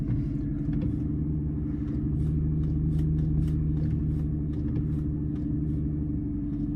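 A Ford Probe engine idles after cranking, a steady low rumble that holds evenly throughout with no talking.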